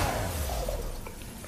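Wooden boxes smashed apart in the video game God of War Ragnarok, giving a short, loud crash and shatter over a low rumbling game background.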